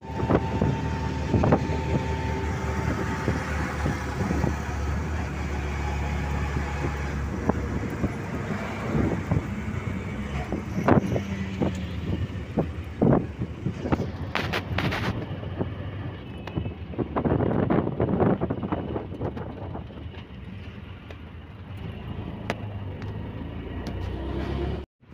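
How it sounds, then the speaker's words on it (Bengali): Strong cold wind buffets the microphone outdoors near a Gurgaon fish market beneath elevated metro pillars. The roar is loud and continuous, with gusty thumps and some traffic-like rumble mixed in, and nobody speaks. "সাংঘাতিক ঠান্ডা, কি হাওয়া না, কেন হাওয়া আছে গলায় লাগছে।"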